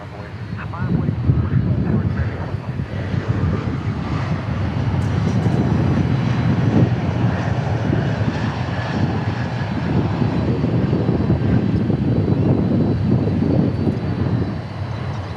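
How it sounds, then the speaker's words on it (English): Jet engines of a UPS cargo plane spooling up during pushback at Dallas Fort Worth airport, a loud, continuous low roar with wind buffeting that holds steady throughout, heard from nearby with some talk over it. "I hear another UPS pushing back, starting up the engines."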